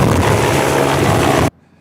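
Helicopter on a mock-patient rescue training flight, a loud steady rotor and engine roar with broadband wash that runs unbroken for about a second and a half, then cuts off abruptly to near silence.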